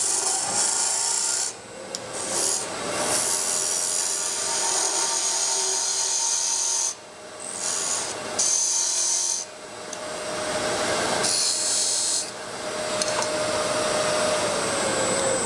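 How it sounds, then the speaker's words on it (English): A box scraper cutting box elder wood on a lathe, shaping a turned lid: a steady, close rasping scrape that runs almost continuously, broken by a few short pauses. "I'm just working my way down, and I'm using a box scraper."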